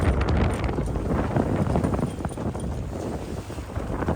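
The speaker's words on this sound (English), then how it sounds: "The wind just piped up another 5 miles an hour." Strong gusting wind buffets the microphone in a steady low roar beside a Sunfish sailboat, with faint rattling and water sounds in the background.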